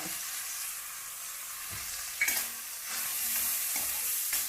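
Masala with garam masala powder, turmeric and jaggery roasting in a pan for capsicum rice, a steady close sizzle and frying hiss with occasional stirring scrapes, no talking.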